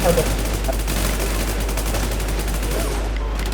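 Rapid automatic gunfire in the online survival shooter WarZ forms a dense, continuous barrage that hammers on without a pause throughout, with voices faintly underneath.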